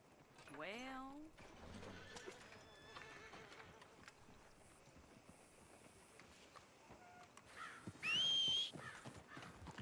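A horse whinnies loudly near the start, followed by hoof clip-clops and game ambience, with talking running throughout and a bright tonal chime near the end.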